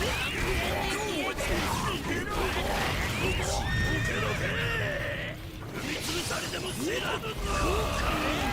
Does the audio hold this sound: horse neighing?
yes